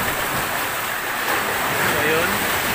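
Big ocean waves surge against rocks in a steady, loud wash of surf, with wind noise over the microphone throughout.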